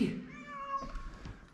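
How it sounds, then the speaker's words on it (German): A cat meows from behind a closed door at home, one drawn-out wailing cry that fades, followed by faint rustling and footsteps nearby. "Und hört ihr das? Der Katzer ist hinter der Tür."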